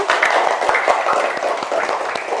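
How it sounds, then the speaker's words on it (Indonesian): Classroom of students clapping for a classmate, a lively burst of uneven hand claps, close and brief, with faint voices mixed in. "Kasih tepuk tangan dulu untuk temannya."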